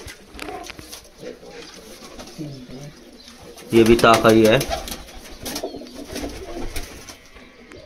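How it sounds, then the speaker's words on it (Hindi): Large pigeons kept by a fancier cooing in soft repeated calls, with one louder burst of cooing near the middle, while someone talks nearby throughout. "ये सब राकेश भाई के बड़े कबूतर है"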